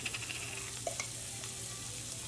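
Onions sizzling in a hot pan while cooking a tortilla chicken pot pie, a steady quiet frying hiss with a few faint clinks of stirring, no talking.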